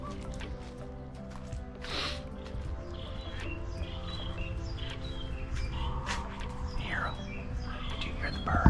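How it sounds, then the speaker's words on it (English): Birds chirp and tweet outdoors by a pond in scattered short calls over a steady low background hum, with a few brighter calls standing out. "Do you hear the birds?"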